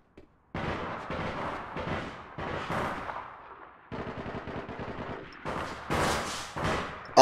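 Gunfire in the video game APB Reloaded: loud bursts of rapid automatic shots in several volleys separated by short pauses, close and dense.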